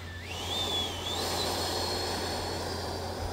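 A Freewing F-16 90mm electric ducted-fan RC jet on an 8S setup whines steadily on its take-off run, the fan pitch sweeping upward and holding as a loud, continuous rushing roar, with no talking.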